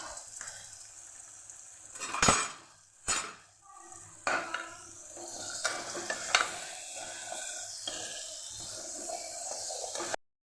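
Tomato dropped into hot spiced oil for Kathiyawadi val batata shak, sizzling in a pan while a spoon stirs, with several sharp scrapes and clinks against the metal over a continuous hiss, close by.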